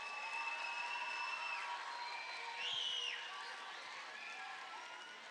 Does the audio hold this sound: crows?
no